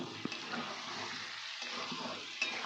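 Salted onions sizzle and fry in a pan for a Bengali egg curry, a soft continuous crackle with a few sharp clinks of the spoon as they are stirred, faint and close with no talking.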